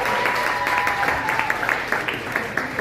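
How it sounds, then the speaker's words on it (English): Comedy club audience at a new-comedians showcase at an improv club breaking into steady, dense applause and clapping, moderately loud and sustained throughout with some crowd murmur mixed in. "Make some noise for Jenny one last time, ladies and gentlemen"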